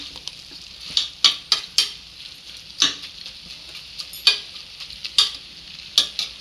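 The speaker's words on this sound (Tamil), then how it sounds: "ஒரு அஞ்சு நிமிஷம் வதங்கட்டும்" Vegetables sizzle in a pan for vegetable biryani while a utensil stirs them, giving sharp, close scraping taps at an irregular rhythm over a soft, steady frying hiss, with no voices.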